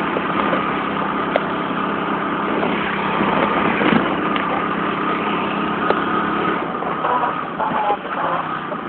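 A Honda C50 motorcycle fitted with a 90cc engine runs continuously nearby, a steady buzzing engine note with small surges and a few sharp clicks over the top.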